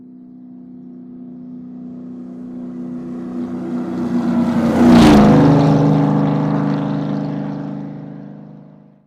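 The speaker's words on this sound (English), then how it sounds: "Let's say you are standing beside a highway and a car passes by you" A car speeds past on a highway beside a listener, its engine swelling louder as it approaches, peaking close by mid-way, then fading as it recedes, with a clear Doppler pitch shift.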